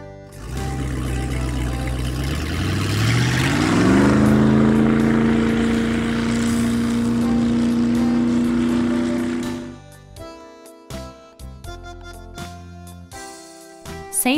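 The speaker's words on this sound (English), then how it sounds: "Ferry." A ferry's engine drones loudly, its pitch rising smoothly into a sustained tonal hum before fading out, leaving scattered knocks and clatter.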